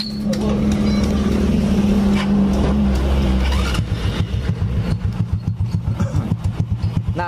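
A Honda Karisma 125 motorcycle fitted with a Revo CDI runs loud and close, its engine droning steadily before settling into a rapid, pulsing idle.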